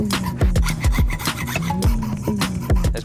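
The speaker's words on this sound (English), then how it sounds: "I've actually never used a hacksaw in a 1 foot circle" A hacksaw rasps through metal in a tiny blacksmith's workshop, with quick, even back-and-forth strokes repeating about three times a second, loud and close with no voices.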